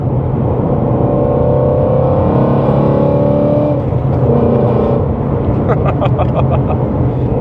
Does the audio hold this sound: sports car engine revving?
yes